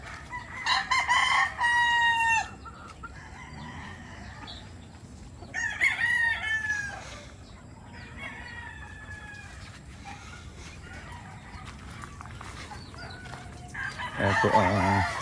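Gamecock stags tethered in a range area during the off season crowing, several loud strained crows near and a bit farther off, with clucking and faint farm background between them.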